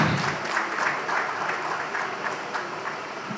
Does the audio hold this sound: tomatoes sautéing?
no